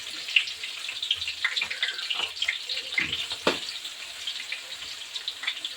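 Chopped garlic goes into hot oil already seasoned with cumin and set over a medium flame, for a crispy poha chuda snack. It gives a steady, close bubbling sizzle that runs the whole time, with no talking.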